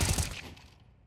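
Short burst of gunfire in the video game CS:GO during a professional esports match, a loud rapid volley that cuts off and decays within about a second.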